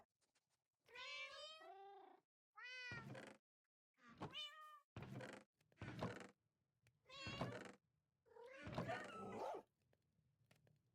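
A Minecraft cat meows repeatedly, about seven separate clear, close mews with short pauses between them, alone without any talking.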